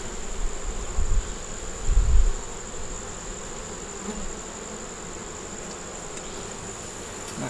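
Honey bees buzz around an open hive, a steady droning hum with a couple of louder low thumps early on as the hive is handled.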